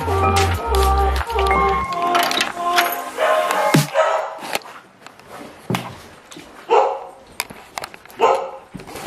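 Female pet dogs bark loudly and close by in a string of irregular yaps and woofs, with brief whimpers and pauses between bursts.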